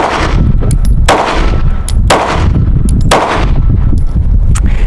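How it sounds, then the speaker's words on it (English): The slide of a Hellcat pistol is racked with soapy hands, producing four loud, sharp metallic clacks roughly a second apart over a constant close rustling noise. "Let's start from slide down, do a load."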